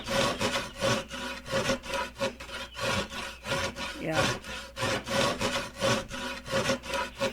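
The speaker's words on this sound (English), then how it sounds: "Sawing a plank out of a log." A saw cuts a plank from a log in the game Wurm Unlimited, rasping wood in a steady back-and-forth rhythm of about two strokes per second. The strokes are close and clear, and a voice speaks briefly once.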